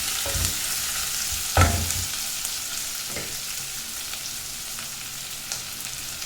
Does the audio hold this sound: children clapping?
no